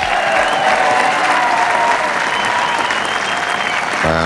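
Sustained, dense applause from a large audience at the 1989 bowls finals day for the champion, steady and loud throughout, with a voice briefly breaking in at the very end.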